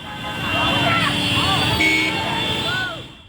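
Car horns honk repeatedly amid street traffic around a truck on a road in Gorakhpur, several overlapping toots rising and falling over engine noise, with voices talking underneath.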